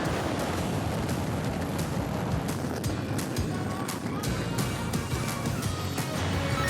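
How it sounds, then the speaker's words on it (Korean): The Korean Nuri rocket (KSLV-II) lifts off from Goheung with a continuous, dense crackling roar that stays loud and even throughout, and faint voices sound beneath it. "누리호가 발사되었습니다."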